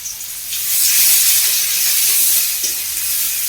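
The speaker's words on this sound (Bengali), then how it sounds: "এবার একে একে আমি দিয়ে দেবো পেঁয়াজ কুচি, রসুন কুচি, আর সামান্য একটু আদা" Chopped onion, garlic and a little ginger dropped into hot oil in a pan: a loud sizzle bursts up after a moment and holds as a dense, close hiss, with no talking.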